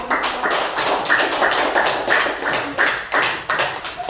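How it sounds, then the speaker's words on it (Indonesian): A class applauds after a student group presentation, a fairly loud, dense patter of clapping that runs the whole time with a few sharper taps on top. "Beri tepuk tangan untuk"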